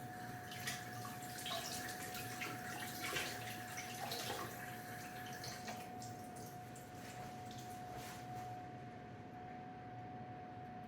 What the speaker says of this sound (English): let's give it one more rinse.